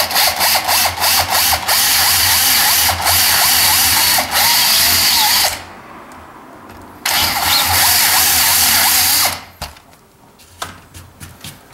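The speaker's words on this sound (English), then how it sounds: "We're going to drill right into the top of the door." A hammer drill bores into the top edge of a wooden door, roaring loud and harsh with a fast hammering rattle. It runs in two long bursts of several seconds each, separated by a brief pause, then stops.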